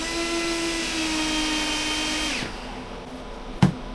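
A power drill whines steadily while driving screws during an office access control upgrade, then winds down and stops, followed by a single sharp knock.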